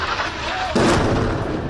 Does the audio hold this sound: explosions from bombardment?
yes